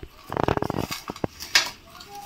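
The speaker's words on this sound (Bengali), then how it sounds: "একটু নুন দিয়ে আমি মেখে নিচ্ছি।" Hand-mixing mashed roasted pointed gourd with salt in a bowl gives a quick burst of close knocks and clinks against the bowl, then a few separate taps and a brief scrape.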